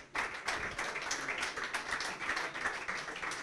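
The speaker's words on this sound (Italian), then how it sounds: "Un grosso applauso per il capocannoniere Cristian Vecino." Audience at a futsal event claps for the top scorer, a continuous patter of many hands with uneven rhythm, moderately close and steady for several seconds.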